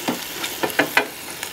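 Beef short ribs get tossed in an air fryer basket, a handful of quick clattering knocks and scrapes over a faint sizzle, close and fairly loud.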